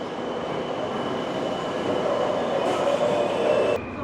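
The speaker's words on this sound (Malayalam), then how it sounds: "ട്രെയിൻ പോയിക്കൊണ്ടിരിക്കുന്നത് അണ്ടർഗ്രൗണ്ടിലൂടെയാണ്." An underground metro train in Kolkata runs through a tunnel, a loud continuous rumble with metallic wheel squeal and rising rail noise that cuts off sharply near the end, no voices.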